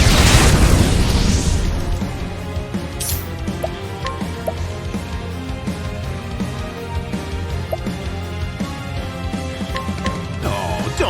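A fire spell in Octopath Traveler 2 bursts with a loud, roaring blast at the start, then fades into a crackling, dripping tail of magical effects and rhythmic game sounds.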